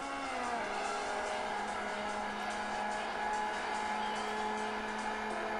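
Racing car engines in an iPad racing game give a steady, sustained whine with slowly shifting pitch, holding at an even level without pause and with no talk over it.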